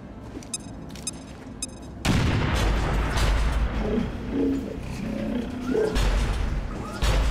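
A frag grenade detonates in the tactical game XCOM: Chimera Squad, a sudden loud blast at about two seconds that follows quieter clicks and rolls into a long, dense, rumbling roar with crackling debris.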